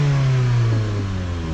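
A car engine with a misplaced exhaust and several faults revs loudly and runs roughly, a close, uneven droning tone that dips in pitch partway through.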